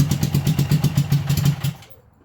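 A 1980 Honda CB750F motorcycle engine runs in second gear with a rapid, even low throb and steady pulses, close and loud, before cutting out near the end.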